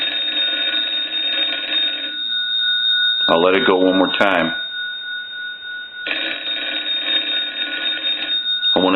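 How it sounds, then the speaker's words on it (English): A Western Electric 323 rotary candlestick telephone's bell box rings close by in two loud, buzzy bursts of rapid jangling, with someone talking in the quiet gap between them. "So we want to go ahead and ring the telephone."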